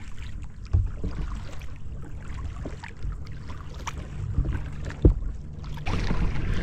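Kayak paddling on calm water in Bahia Concepcion, quiet splashes and drips from paddle strokes at irregular intervals, with a sharper knock near the end and light wind in the background.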